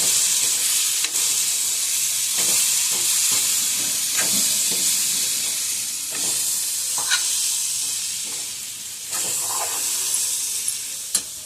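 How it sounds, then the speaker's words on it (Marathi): Crushed coconut and peanut mixture sautéed in a pan while cooking a vangyachi bhaji, a steady sizzle and hiss with scraping stir strokes at intervals, moderately close, with no talking. "मस्त असं परतून घेऊयात."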